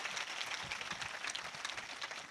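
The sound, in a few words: congregation clapping for children at a sermon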